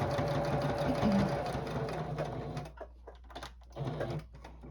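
A sewing machine stitches a quilted star tabletopper with a close, busy mechanical whir, then pauses and runs again in short bursts of a few stitches.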